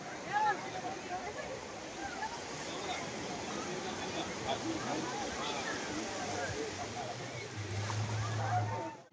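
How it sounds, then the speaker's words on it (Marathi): Sea waves wash ashore on Ganpatipule beach in Ratnagiri, Maharashtra, a broad continuous roar of surf with distant crowd babble and faint voices mixed in. "बघा लाटा येतात"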